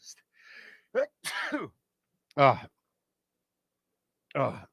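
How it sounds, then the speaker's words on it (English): A sneeze from someone at home sick with a horrible flu, one of several short sharp vocal bursts, close and fairly loud, separated by silence with no talk. "At home with a horrible flu, and I just sneezed"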